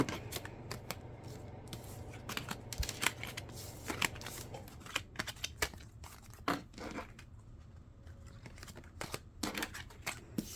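A deck of tarot cards is shuffled by hand, with steady rapid riffling and flicking bursts, close and crisp, continuing for several seconds with no talk.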